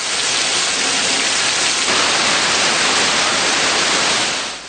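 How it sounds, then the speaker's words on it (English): Strong wind and heavy rain in the Dambulla area, a dense, loud and unbroken roar of rushing noise that holds steady throughout with no voices. "The Dambulla area experiences strong winds accompanied by rain."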